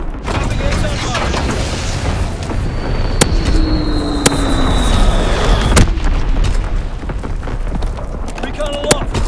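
Artillery strikes in a Call of Duty video game, with several sharp distant booms and cracks over continuous battlefield rumble, a whistling shell streak, and radio-style voices speaking in between.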